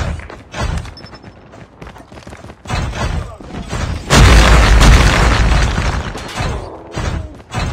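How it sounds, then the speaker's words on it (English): Predator missile explosion in Call of Duty: Mobile gameplay, a loud booming blast with a rumbling tail after scattered gunfire and game sounds, with announcer voice lines before it. "Friendly predator missile inbound."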